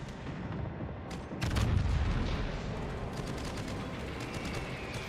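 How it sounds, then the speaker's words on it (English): Gunfire in a naval warship battle game, rapid bursts of shots and a heavier booming burst partway through, loud and dense over a steady rumble of battle. "Fighters are shooting things down."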